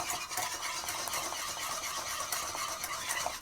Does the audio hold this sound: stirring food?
yes